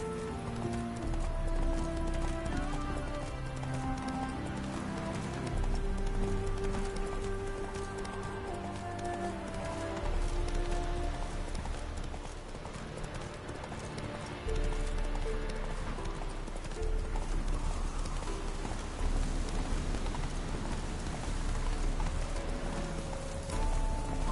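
Hooves clip-clop in a steady fast rhythm as a horse gallops in the video game The Witcher 3, continuous and close under a layer of game music.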